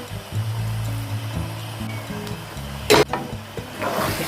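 Rendang stirred in a pan with leaves and torn citrus leaves added, a steady sizzle and frying hiss running throughout, with a louder scrape of stirring near the end.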